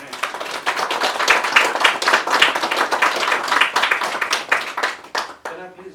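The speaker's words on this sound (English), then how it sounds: "a big round of applause to Bhavin and Vijay" A crowd at a whiskey launch party claps enthusiastically, rapid close handclaps in a loose rhythm building and then tapering off, followed by a voice speaking at the end.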